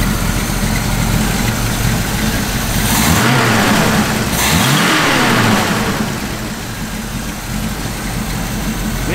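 A 1969 Pontiac Firebird V8 idling with a mild cam lope, a loud, close, uneven rumble with a brief rev swelling in the middle before settling back to idle.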